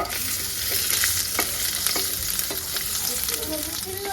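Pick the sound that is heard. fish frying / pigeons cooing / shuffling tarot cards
fish frying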